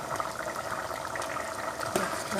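Vegetable and greens gravy simmering in a pot on a gas stove, a steady close bubbling hiss with soft popping that builds slightly toward the end, with no talk.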